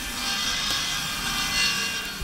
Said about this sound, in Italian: Ora si sega il pezzo.